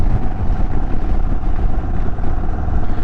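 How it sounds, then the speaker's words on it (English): Indian motorcycle engine while riding through countryside, a loud, continuous low rumble with wind noise and no talk. "that sound of the Indian engine, and just rolling through the countryside."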